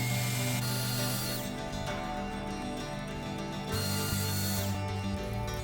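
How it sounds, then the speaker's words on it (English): A power drill drives a black screw into a 4x4 block of scrap wood, a steady whining motor with ratcheting grind, two sustained bursts separated by a brief easing, close and alone. "Drilling in the first black screw."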